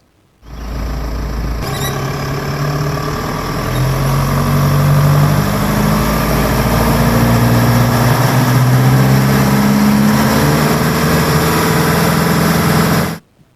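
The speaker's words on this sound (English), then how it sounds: "I put timber blocks behind all four wheels and tried to reverse over them" Automatic Volkswagen Amarok engine straining to reverse over timber blocks behind all four wheels, a loud sustained engine drone with rising and falling revs lasting over ten seconds, then cutting off abruptly.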